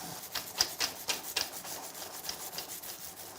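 A stiff brush scrubs the drive chain of a KTM SX or EXC motorcycle during cleaning with degreaser, making quick, close, rasping strokes in short bursts that taper into lighter, fainter scrubbing.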